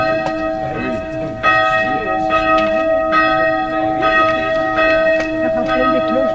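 Small, high-pitched chapel-type bell ringing repeatedly in steady strokes with a bright sustained shimmer, fairly close and clear, with faint voices murmuring underneath.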